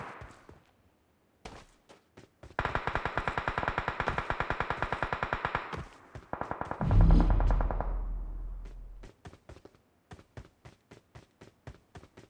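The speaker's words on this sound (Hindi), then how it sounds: "राइट हैंड साइड से फायरिंग की आवाज़ आने लगती है" Rapid bursts of automatic gunfire in PUBG Mobile, loud rattling volleys in several runs with a heavy boom and rumble midway, followed by scattered single shots.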